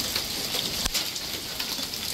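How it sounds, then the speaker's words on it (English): Popcorn-sized hail falls in a July storm, a dense, steady patter of pellets striking surfaces outdoors, continuous and fairly loud with one sharper hit partway through. "Popcorn-sized pieces of hail coming down."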